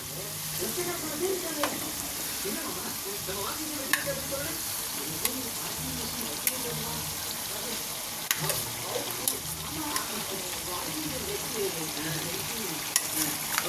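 Prawns fry and sizzle in a pan with onion and tomato while being stirred, a steady close crackling hiss with scraping and occasional sharp ticks of the utensil against the pan.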